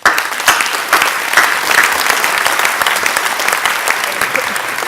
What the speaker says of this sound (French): Je vous demande d'applaudir l'ensemble des élus.